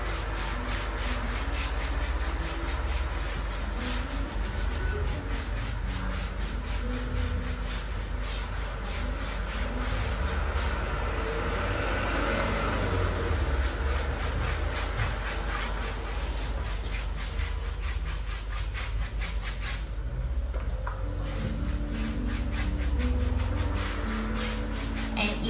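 Hemp finishing oil is rubbed and spread across a cedar dining table, producing a steady close swishing and rubbing that continues evenly throughout, with no talking.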